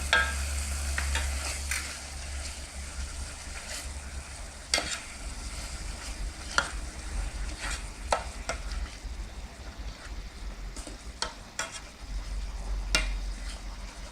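Pounded fresh shallots and garlic fry and get stirred in a pan, a continuous close sizzle broken by frequent scraping clicks of the utensil, with no talking.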